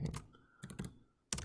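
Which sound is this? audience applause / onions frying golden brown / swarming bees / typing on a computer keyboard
typing on a computer keyboard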